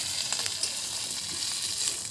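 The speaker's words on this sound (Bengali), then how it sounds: "ভেঙে ভালো করে ভেজে নিচ্ছি।" A large fish head sizzles and fries in hot oil, a steady loud crackling hiss with small pops throughout, close by and with no talking.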